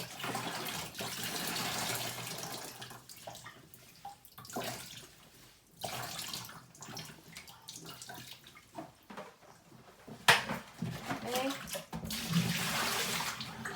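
Water runs and splashes into a basin while raw sheep fleece is rinsed, a continuous gushing wash that swells and dips with brief quieter gaps and sloshing moments.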